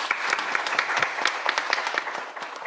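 A round of applause at a women's business breakfast event: many hands clapping close and loud, with individual sharp claps standing out in a lively, uneven rhythm that continues throughout.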